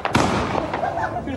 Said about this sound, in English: Fireworks launched like missiles,